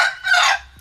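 A native Bangkok rooster (ayam kampung) crows once, loud and close, a single bright cock-a-doodle-doo under a second long in a free-range chicken run.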